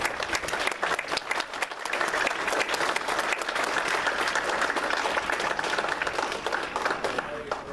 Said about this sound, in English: I know we just did applaud